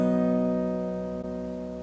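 Three open guitar strings pinched together in a single chord, ringing out and slowly decaying with no other sound.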